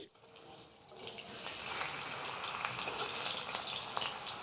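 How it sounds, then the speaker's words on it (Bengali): Whole pumpkin flower pakoras fry in hot oil, a soft bubbling sizzle that rises and thickens after a quiet start, steady and fairly faint, with no talk. "এখানে আমি একদম গোটা গোটা ফুলগুলোকেই ভেজে নিচ্ছি"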